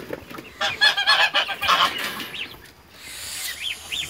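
Caipira geese honk close by on a farm, a burst of loud nasal calls in quick succession followed by a pause and a few shorter, thinner honks near the end.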